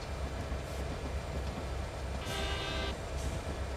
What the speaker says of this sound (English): Okay, so the end of the train is just crossing the bridge.